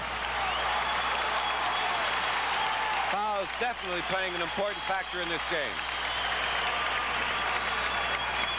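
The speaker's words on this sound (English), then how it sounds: "Fans from both teams standing up, cheering their players on." Basketball fans from both teams cheer and applaud in a gym, a steady roar of crowd noise under a commentator calling the game.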